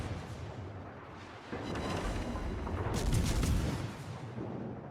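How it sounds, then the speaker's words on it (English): Heavy naval gun salvos from a warship video game pound the enemy cruiser Pobeda, booming, rumbling blasts that build and swell, with a bright crackling impact burst in the middle. "And I'll just continue to put shells into the side of Pobeda."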